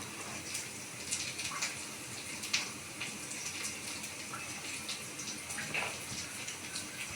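Water pours steadily as soaked kurdai is drained through a fine kitchen sieve, a continuous splashing trickle with no talk.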